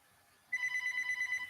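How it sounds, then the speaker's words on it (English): A telephone rings with an incoming call, a clear electronic warble that starts abruptly after a brief quiet and pulses rapidly and steadily close by. "Of course, I get a phone call now."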